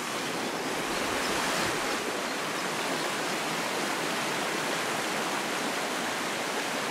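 Continuous rushing water noise, steady and full, of small cascades tumbling in a river nearby near the village of Sarrant, France; no voices.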